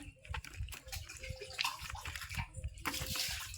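Brinjals being washed by hand in a vessel of water, with continuous sloshing and splashing, close and fairly loud, carrying on steadily without talk.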